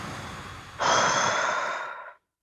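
A single deep breath during a guided breathing exercise, a long airy exhale that swells suddenly and fades out over about a second and a half, heard close and alone.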